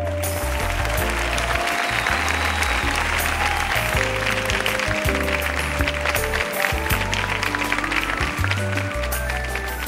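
Audience applause at an awards ceremony, dense sustained clapping throughout with music tones running underneath.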